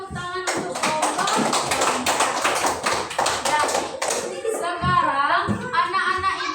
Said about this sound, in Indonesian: Silakan kita beri tepuk tangan untuk kelompok.